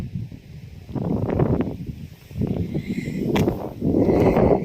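Wind gusts sweep across a field of dusita wildflowers and grasses in a national park, buffeting the microphone in several close, loud, rumbling surges with faint leafy rustling and no voices.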